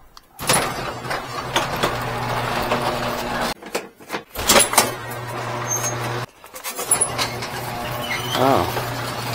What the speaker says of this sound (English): It's my door opener.